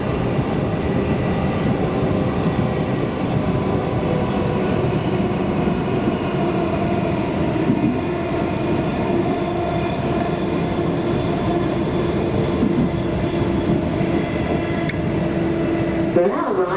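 Interior of a Comeng electric train running on Melbourne's Sunbury line, a steady loud rumble and whine of motors and wheels throughout, slowing toward a station with a brief squeal near the end.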